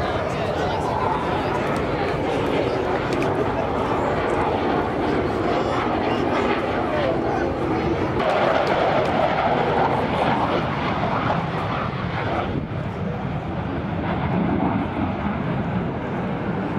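An aircraft at the Torbay Airshow, a Navy Heritage Trust plane, flies past with a steady engine drone that swells and fades, heard under a public-address commentator and crowd chatter.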